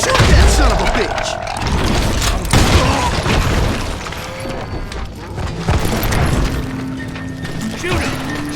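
Gunfire and impacts in the Western shooter Call of Juarez: Gunslinger, with loud booms and crashes spread through a busy battle mix while voices shout over it.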